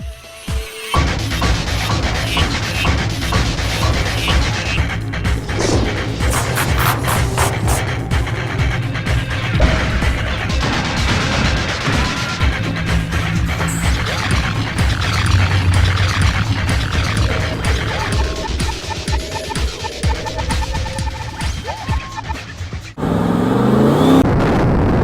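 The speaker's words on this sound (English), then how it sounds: "if you can hear that, then you know that we're in the 6-liter Power Stroke" A Ford 6-liter Power Stroke diesel truck engine runs loud and close for a long stretch, its rough drone rising and falling with revving and road noise, and the tone shifts near the end.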